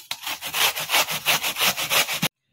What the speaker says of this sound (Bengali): এবার আমি গেটারে লাউটাকে পুরো ঘষে নেব।